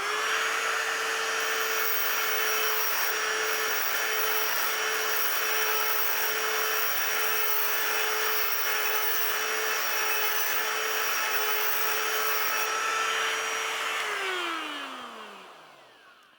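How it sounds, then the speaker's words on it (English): A professional carbide stud sharpening tool grinds a carbide tip down to blend it with the host material, giving a steady, loud high-pitched whine that holds for about fourteen seconds before winding down as the tool stops. "we're going to go back in, back the tool out, and blend the carbide tip to the host material"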